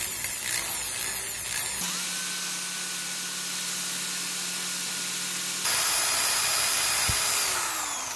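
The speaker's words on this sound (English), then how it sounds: "get a little pilot hole going. And since this is metal, I am going to use my metal drill bits" A power drill with a metal bit whines steadily, with a high-pitched tone under a hissing grind, then grows louder and harsher as it bores a pilot hole into metal on a guitar case.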